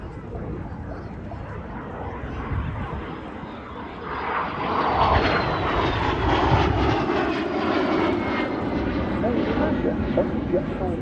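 A de Havilland jet fighter flying a display at the 2024 Portrush airshow, its engine roar swelling and growing louder as it passes, with voices in the background.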